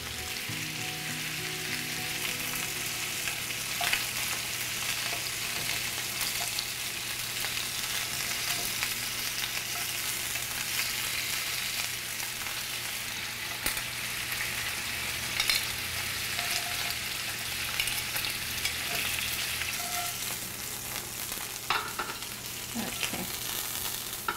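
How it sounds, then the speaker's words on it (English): Fish searing in a hot pan for canh chua makes a loud, continuous crackling sizzle that holds steady for the whole stretch, close up and with only faint occasional pops, no talk. "just so it sears and gets a little bit brown"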